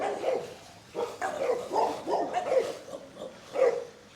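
Several dogs at a kennel on a Barbados estate with about 40 kennels bark and yip repeatedly, fairly faint and at a distance, in an irregular overlapping string.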